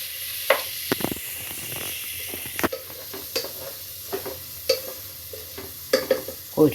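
Conch pieces frying in hot oil for biryani, a steady sizzle broken by scraping strokes of a spoon stirring the pan at an uneven pace, close and fairly loud.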